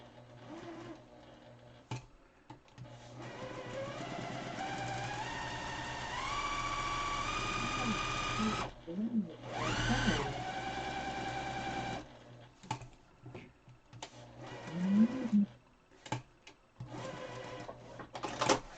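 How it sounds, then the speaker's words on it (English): A sewing machine stitches around a wire on a homemade N95-style mask, running in a steady whir with a rising pitch, then stopping and restarting in short bursts near the end. "all I did was stitch all the way around that wire"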